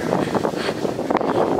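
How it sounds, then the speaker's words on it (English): Strong wind buffets the microphone outdoors on an empty campus, a loud, steady rumbling roar with no voices. "It's so windy."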